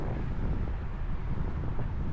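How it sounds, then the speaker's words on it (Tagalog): Steady, heavy headwind buffeting a microphone on a bicycle ride, a continuous low roar with no letup and no voices. "Lakas kasi ng hangin dyan mga lods, headwind talaga."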